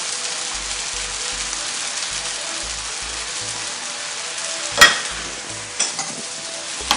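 Spinach going into a chicken curry in a pan, with a steady frying sizzle and a spoon scraping in a regular rhythm, then a sharp clatter and a few knocks toward the end; no voices.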